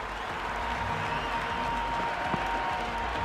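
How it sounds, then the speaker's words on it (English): Steady, dense crowd noise with clapping and cheering from a packed stadium in the Cricket 26 video game, during a T10 match between Pakistan and West Indies, going on throughout without a break. "The crowd are really getting quite raucous."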